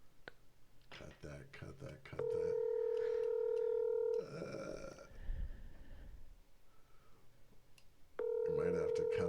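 Telephone call placed: soft dialing clicks, then a steady ringback tone sounding twice with a gap of noisy rumble between, a voice murmuring faintly early on.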